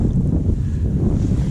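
Wind on a lake during a November kayak fishing trip, a steady low rumble of gusts buffeting the microphone, loud and continuous with no talking.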